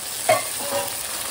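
Water poured into a pan of frying onion, garlic, ginger and cashews sets off a sharp burst of loud sizzling that settles into a steady hiss within about a second.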